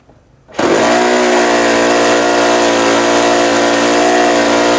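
A model airplane glow engine is throttled up to full, starting from near silence and then running as a loud, sustained, high-pitched buzzing whine that holds steady at close range.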